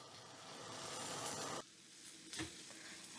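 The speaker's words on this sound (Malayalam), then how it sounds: "ഇതും ചേർത്ത് ഈ പൊടികളുടെ പച്ചമണം മാറുന്നവരെ ഇളക്കി കൊടുക്കുക കേട്ടോ" Spice powders, including turmeric, are stirred in a hot pan for palak paneer, a close sizzle and scraping rub that cuts off abruptly midway, followed by fainter scraping and a single knock.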